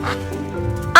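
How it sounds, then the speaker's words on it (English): A duck gives a short quack in a children's animated farm-animal read-aloud, close and loud at the very end over soft music. "I see a yellow duck looking at me."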